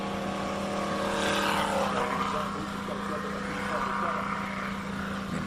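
Classic race car accelerating at a hillclimb, its engine a steady loud roar with rising pitch sweeps as it pulls away, continuous throughout with no talk over it.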